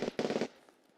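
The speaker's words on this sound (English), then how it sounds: "That's Uzi." Uzi submachine gun fire in Escape from Tarkov, a quick burst of closely spaced shots lasting about half a second, followed by fainter scattered echoes and distant pops.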